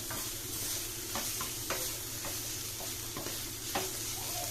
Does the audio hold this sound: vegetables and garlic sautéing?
yes